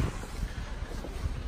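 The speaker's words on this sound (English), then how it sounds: "It's kind of picking up in wind, so I'm going to get out of here." Gusty outdoor wind buffeting the microphone near an ancient temple in Split, Croatia, a low rumbling roar that fluctuates in short bursts.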